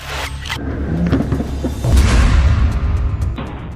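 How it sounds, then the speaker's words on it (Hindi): An Israeli tank explodes in a heavy, rumbling boom that swells midway and rolls on with a low roar, layered over a noisy, muddled background. "जो धमाका है उसमें न सिर्फ इजराइल का टैंक फट रहा है"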